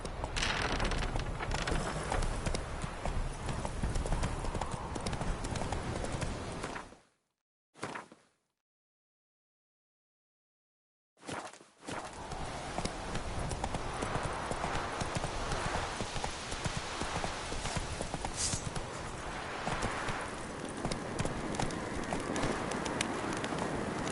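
A horse in The Witcher 3 on PS4 gallops with steady, close clip-clopping hooves and birds cooing in the background; the hoofbeats cut out briefly partway through, then resume.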